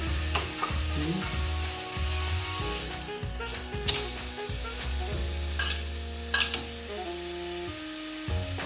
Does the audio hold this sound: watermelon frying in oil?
yes